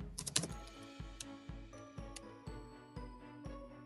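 Keys clatter on a computer keyboard in quick bursts, a dense cluster of taps at the start followed by steady, evenly spaced keystrokes, close and fairly quiet with no voices.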